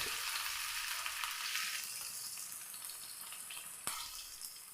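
Ginger, garlic and curry leaves sautéing in a hot pan give off a bright, steady close sizzle with no voices, easing slightly after a couple of seconds, with one sharp clink near the end.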